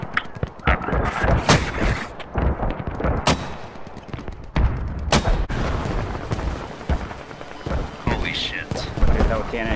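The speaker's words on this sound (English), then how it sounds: "I'm trying to put mortars on their shit." Mortar fire in a video game, a series of loud close booms and thuds amid scattered gunshots, with people talking over the action.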